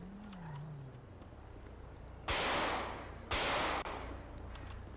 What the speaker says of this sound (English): I'm gonna shoot their tires